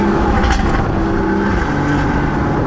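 A Porsche Cayman S 981 engine breathing through its stock exhaust, a steady, close, loud mechanical drone with slight swells of revving, heard alone without talk.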